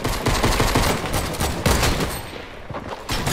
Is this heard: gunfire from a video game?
yes